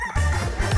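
A rooster crows in a short, loud, close burst inside a troupe vehicle in the early morning, with no talking.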